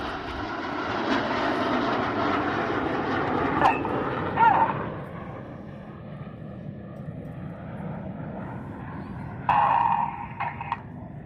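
Red Arrows jets fly a display at the 2016 Southport airshow, a loud sustained engine roar that swells overhead and then fades into the distance, while a commentator talks over the public address.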